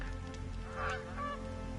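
Honking waterfowl calls in a video game, two short nasal bursts close together over a steady low background hum, no talking.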